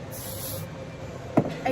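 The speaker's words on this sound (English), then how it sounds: "some Oribe thick dry finishing spray" A steady hiss of Oribe dry finishing hair spray for about half a second at the start, followed by a couple of short clicks and rustles.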